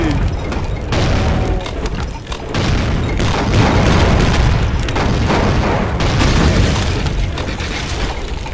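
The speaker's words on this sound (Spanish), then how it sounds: "Tiros de escopeta que paralizan al enemigo." Shotgun blasts in the video game Brutal Doom boom loudly and repeatedly amid dense, continuous combat noise, with brief gaps between heavy bursts.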